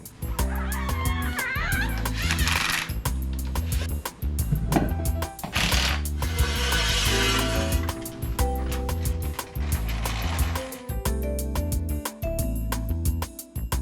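Ratchet tightening suspension bolts on a Jeep Wrangler JK during a MetalCloak bolt-on front long arm install: loud, close bursts of rapid clicking pawl strokes, repeated in runs with brief pauses between, no speech.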